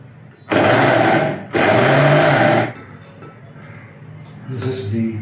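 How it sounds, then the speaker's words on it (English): A mixer grinder blends onion, tomato and ginger-garlic paste. It gives two loud, steady whirring bursts of about a second each, separated by a brief pause, and then fades into quieter background sound with some talk. "This is going to be ground now in the mixie once again."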